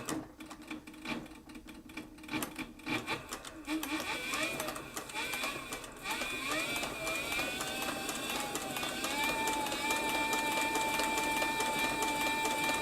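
A leather sewing machine for saddlery runs at full speed, a steady loud mechanical whir with rapid needle clatter that builds after a few slower bursts and holds continuous to the end.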